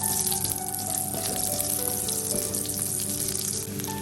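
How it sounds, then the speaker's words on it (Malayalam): Small onions dry roasting in a pan for a Kerala-style dried fish chammanthi, giving a steady, close sizzling crackle that holds evenly throughout with no talk. "നമുക്കിനി കുറച്ച് ചെറിയ ഉള്ളിയും കൂടെ ഇതുപോലെ തന്നെ റോസ്റ്റ് ചെയ്തെടുക്കാം"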